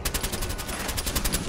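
Rapid automatic gunfire in the video game Fallout 4, a dense, continuous rattle of shots, loud and close, with no talking over it.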